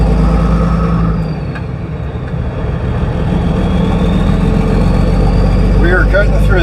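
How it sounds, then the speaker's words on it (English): A vehicle's exhaust rumbles loudly and steadily at idle after something underneath was broken while cutting through a yard, with voices talking over it. "the exhaust started sounding a lot different"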